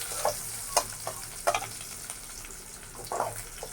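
Mixed vegetable labra being tempered with bay leaf, dried chillies, black cumin and chopped garlic in hot oil. A faint, close sizzle runs throughout, with a few quick stirring scrapes and clinks.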